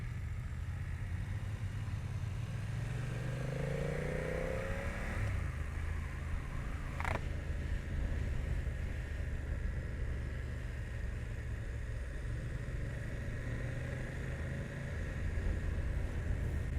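A 2021 BMW F 900 R motorcycle rides along, a steady low engine drone under heavy wind rush at the helmet, with one gear-shift-like rise in pitch early and a constant loud roar throughout.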